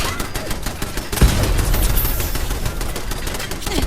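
Rapid automatic turret gunfire from Fallout 4 rattles continuously through the whole stretch, a dense burst of shots with a heavier impact near the start, loud and close, with a voice faintly underneath.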